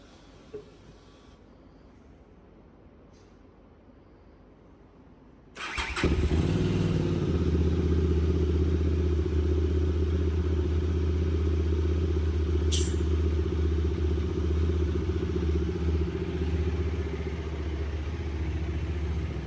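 A motorcycle engine starts after a few seconds of quiet room hiss, then settles into a loud, steady close-up idle with a deep throbbing rumble that carries to the end.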